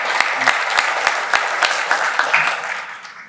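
An audience at a district meeting and election claps together in a steady, dense burst of applause that fills the room, then fades out toward the end, with no talking over it.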